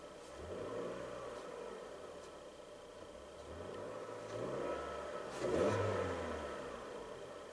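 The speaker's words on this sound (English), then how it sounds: "Listen to how our nice 4-cylinder sounds." 2019 Toyota RAV4 LE four-cylinder engine revved while parked, idle rising into smooth mid-pitched revs in two or three swells, heard from nearby without talk.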